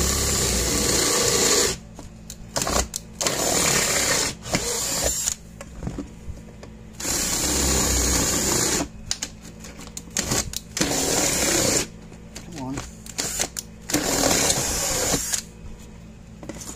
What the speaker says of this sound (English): We got to drill all 4 of them out.